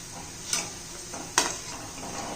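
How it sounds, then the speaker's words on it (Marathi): Onion is sautéed in a pan over a continuous soft sizzle, with two distinct spatula scrapes or taps against the pan. "चांगलं परतून घेते मी आता बघा कांदा आपला चांगला झालेला आहे"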